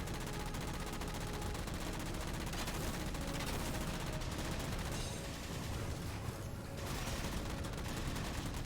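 Dropship side turrets fire continuously in Halo 4 on Legendary difficulty. The gunfire is a dense, steady barrage of rapid shots that stays loud with no pauses for the whole stretch.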